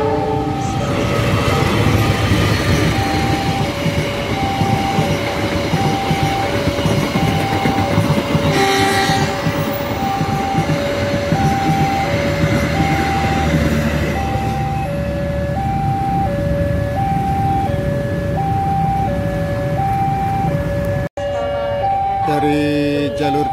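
The Manahan long-distance passenger train arriving on track 2 at Bekasi station, loud rumbling wheels and clattering cars close by, with repeated horn blasts sounding over the steady roar of the passing train.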